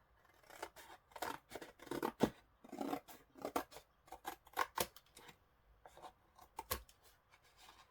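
Scissors trimming a crooked piece of paper ephemera for a craft journal, a series of crisp snipping cuts in an uneven rhythm, close and fairly quiet.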